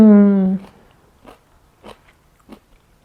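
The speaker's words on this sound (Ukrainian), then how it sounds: "Чуєте, як вона хрустить?" Crisp crunching bites of sauerkraut made with sweet bell pepper, three or four close chewing crunches spaced about half a second apart after a brief voice at the start.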